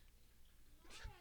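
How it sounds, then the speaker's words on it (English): A fluffy cat gives a single short meow near the end, fairly close, over faint background voices and low room noise. "that's such a cute fluffy kitty cat."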